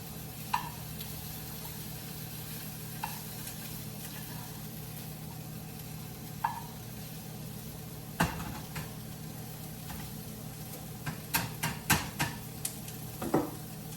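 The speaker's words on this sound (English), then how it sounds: "we're just going to let things sizzle until it's time to check things out" Steady soft sizzle of chicken frying in a pan, with occasional clinks and scrapes of a utensil, close and continuous.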